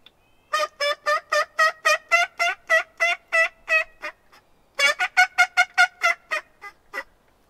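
A person imitates wild turkey hen yelps on a mouth diaphragm call, two close, loud series of rhythmic, evenly spaced notes separated by a short pause.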